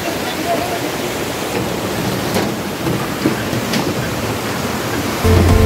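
Dudhsagar Waterfalls in the Goa forest send down a dense, unbroken roar of rushing water, loud and close, with a steady, hissing wash that never lets up.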